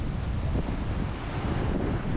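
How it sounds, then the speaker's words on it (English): Sea waves crest and break around a sailboat making speed offshore on a solo passage from northwest Spain toward Ireland, with steady loud wind buffeting the microphone throughout and no talking. "it's nice to keep ahead of these waves, you know, they're starting to crest and break"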